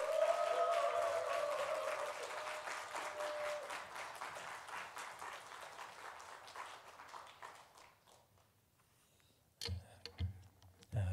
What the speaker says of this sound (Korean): 최준호 목사님 나오실 때 박수로 환영합니다.